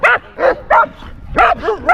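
A German Shepherd barks and whimpers close up in a quick run of sharp yips and whiny barks, about six bursts in two seconds.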